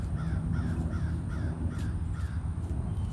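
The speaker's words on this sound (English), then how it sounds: "Heard a crow." A crow caws repeatedly in a steady series of about seven harsh calls, somewhat distant, over a constant low outdoor rumble.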